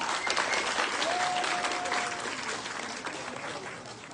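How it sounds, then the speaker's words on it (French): Thunderous audience applause at a formal French-language ceremony honouring officials and diplomats, dense steady clapping filling the whole stretch and easing slightly toward the end, with a faint whistle-like tone sliding through the middle. "Non mais un tonnerre d'applaudissements"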